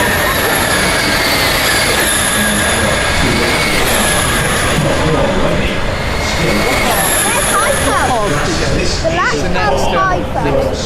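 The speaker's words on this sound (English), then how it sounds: "There you go, racing cars and screeching 10-year-olds." Racing cars pass on a circuit amid shrill screeching from children, a dense continuous roar with rising and falling whines layered over it, loud and close throughout, with voices mixed in.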